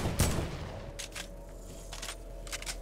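Gunshots in Fortnite during a duos tournament match: a sharp crack at the start, then a few more spread shots at moderate distance, separated by short quiet gaps over a low steady hum.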